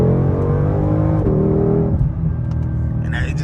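A Shelby GT500 engine rumbles deep and steady at close range, its pitch dipping slightly midway as it settles into a low idle-like drone.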